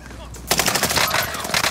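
Rapid automatic gunfire bursts out loudly in Call of Duty: Modern Warfare after a brief quiet moment, a dense sustained stream of shots.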